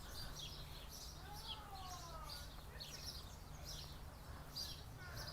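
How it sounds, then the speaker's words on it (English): Birds chirp faintly in pohutukawa trees in New Zealand, with repeated short calls over a steady wash of distant outdoor background noise. "And the birds love them, of course."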